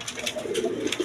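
A pair of high-flying pigeons coos in a few soft, close, repeated low calls, with a steady hum of other sound behind.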